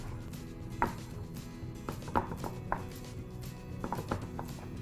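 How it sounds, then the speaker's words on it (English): A knife cuts a tempeh block into thin slivers on a board, producing a scattering of soft, close taps and clicks in irregular groups over a quiet kitchen background. "The reason why I'm chopping into thin slivers is so that I can get more flavor per surface"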